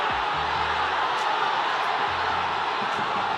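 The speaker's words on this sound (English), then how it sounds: "Crowd loving it." A boxing crowd at a bout between Eumir Marcial and Eddy Colmenares keeps up a dense, steady roar of cheering throughout, loud and continuous with no pauses.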